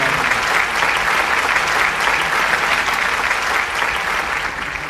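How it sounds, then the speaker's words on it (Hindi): Audience applause welcoming speaker Ruchir Gupta on stage at a stock market talk, dense continuous clapping from a large crowd, loud and steady throughout. "तो तालियों के साथ स्वागत करते हैं आपके अगले स्पीकर रुचिर गुप्ता"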